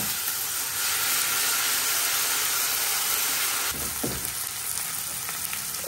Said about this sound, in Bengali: এখানে জিরা আর তেজপাতা ফোড়নে দিয়ে দিছি।